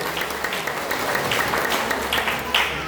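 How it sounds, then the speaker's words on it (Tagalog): A congregation applauds a priest at his first thanksgiving Mass, steady dense clapping filling the church for a few seconds with no voices over it. "tagaan sa nato palakpak sa Padre yun"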